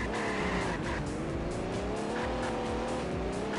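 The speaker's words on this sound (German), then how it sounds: "Doch, exakt so hört sich das Auto an." Racing car in the video game Autobahn Raser 4, its engine droning steadily with shifting pitch and tire squeal, loud and continuous throughout with no talk.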